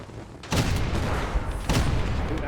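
Tank cannon fire in Gates of Hell: Ostfront, two heavy booming shots about a second apart, loud and close, each with a broad rumbling blast and short decay.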